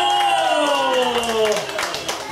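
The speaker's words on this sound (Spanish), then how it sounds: "Aplauso para ella, por favor." Guests at a 50th birthday party for Sr. Jesús Uribe Cárdenas applaud, with scattered claps swelling into a brief burst beneath a voice speaking over them.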